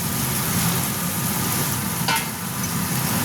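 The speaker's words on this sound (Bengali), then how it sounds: "বেগুনটা দিয়ে আমি নাড়িয়ে নেবো ভালো করে" Eggplant pieces being stirred into hot frying spices with potatoes in a pan, a continuous broadband sizzle and scraping of a spoon heard close up, steady throughout with a brief sharper scrape near the middle.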